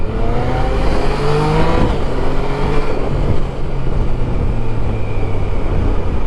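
A Yamaha Tracer 900 motorcycle rides through busy rush hour traffic, its engine a steady, loud drone blended with wind rush that holds throughout with no talking.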